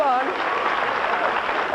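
Studio audience at a 1994 daytime talk show applauding in a dense, steady burst of clapping, with a voice briefly heard over it at the start.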